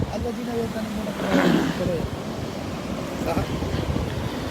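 Sea waves wash at the shore in Karachi as someone wades in, with a steady rushing surf and wind buffeting the microphone, and voices talk over it.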